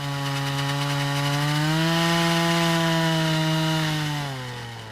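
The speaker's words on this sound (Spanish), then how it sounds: "perforan la piedra con un taladro de agua" A water drill bores into rock in the Palisades near New York, giving a loud, sustained whine that climbs slightly in pitch, holds, then drops near the end. Nothing else is heard.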